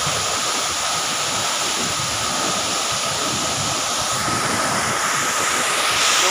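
Inambakan Falls, a waterfall where people swim, produces a steady, dense roar of falling water, loud and unbroken throughout with no voices.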